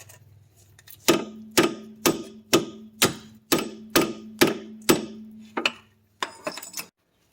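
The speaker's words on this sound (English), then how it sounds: "pounding away on the top of this stud here to try and drive this bolt down" About ten sharp metallic hammer blows on a sway bar end link stud of a 2007 Pontiac Grand Prix ring out in a steady rhythm, close and loud, followed by a short pause and a few quicker, lighter strikes.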